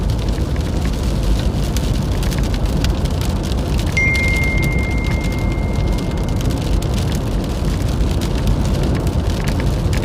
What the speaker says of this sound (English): And we're getting pretty minimal rain out ahead.